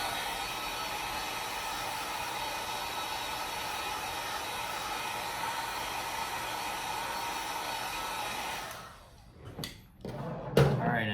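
A heat gun or dryer warms the bumper of a Babolat racquet before grommet replacement, blowing as a steady, close hiss for about nine seconds, then cutting off into a few handling thumps and knocks.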